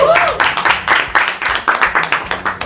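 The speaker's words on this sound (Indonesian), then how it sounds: "boleh tepuk tangan buat tim A." Studio audience clapping for a team on a quiz show, loud, close, rhythmic claps in quick repeated bursts, with voices mixed in underneath.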